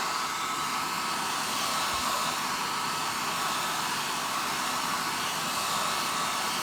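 A hair dryer blows steadily and loudly, drying a decoupage napkin glued onto a stone, a constant even whoosh with no pauses and no voices.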